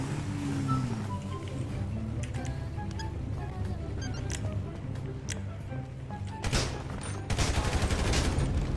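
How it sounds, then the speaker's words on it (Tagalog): Gunfire during a staged holdup prank on a police officer, with sharp cracks and rapid bursts of shots in the background while people talk nearby, the shooting growing denser toward the end. "Uy, chip, may nagbabarilan."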